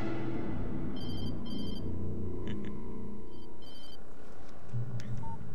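A Verizon cell phone rings in the video game Alan Wake's DLC The Signal, with short electronic ring bursts repeating over a low ambient rumble and no talk.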